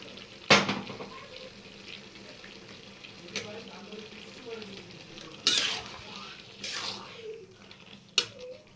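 Bottle gourd with poppy-seed paste sizzles quietly in a pan while a spoon scrapes and clinks against the metal in several sharp, spaced strokes.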